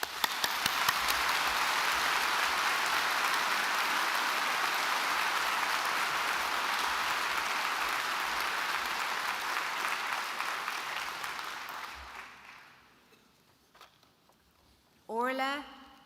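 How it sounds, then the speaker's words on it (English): An audience at a university graduation ceremony claps in sustained, dense applause that holds steady for about twelve seconds before fading, followed by a brief voice at the end. "I think we'll give them a round of applause."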